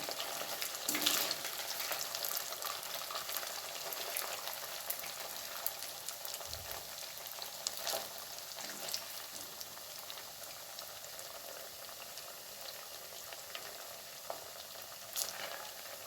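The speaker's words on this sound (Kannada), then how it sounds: "ಇದು ಎಣ್ಣೆಯಲ್ಲಿ ಚೆನ್ನಾಗಿ ಫ್ರೈ ಆಗಬೇಕು" Cut idli pieces frying in hot oil, a soft, continuous bubbling sizzle heard close and fairly quiet, with a few faint ladle clinks and no talking.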